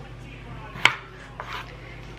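A kitchen knife chops down through a potato being cut into wedges on a board, giving one sharp, close thunk followed by a softer tap and a light scrape, with no voice present.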